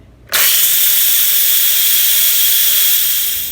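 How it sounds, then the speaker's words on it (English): A pressure cooker vents steam in a quick release while Italian sausage tortellini soup cooks: a sudden loud, steady, close hiss that starts abruptly and holds nearly constant, easing slightly at the end. "And then we're just going to release the steam."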